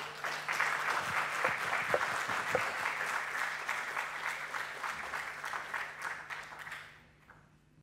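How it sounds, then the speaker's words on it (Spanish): A crowd at a book presentation claps warmly and continuously. The applause is moderately loud and fades out toward the end. "Lo recibimos con un fuerte aplauso a él, Facundo Díaz"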